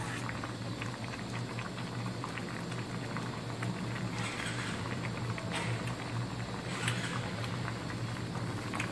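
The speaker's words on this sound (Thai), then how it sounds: "น้ำเดือด" Water boils in a pot for a Thai curry with a constant, close bubbling roll, dense and even throughout, with no voices.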